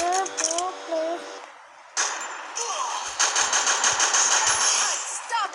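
Rapid bursts of automatic gunfire and clanking impacts from a video game, preceded by a short tonal game sound, fairly loud and continuous after a brief gap.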